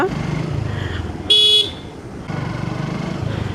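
Motorcycle engine during a street race against a young rider, a close steady drone broken by a short, sharp horn blast in the middle before the engine note resumes.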